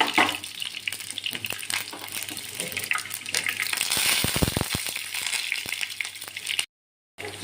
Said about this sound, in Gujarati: રાઈને બરાબર એકદમ ચટકવા દેવાની